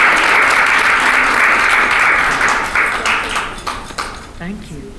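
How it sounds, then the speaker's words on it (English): Applause from an audience at the Texas Women of Influence 2015 awards event, loud and sustained at first, then thinning into scattered claps as it fades. "let's give them a round of applause"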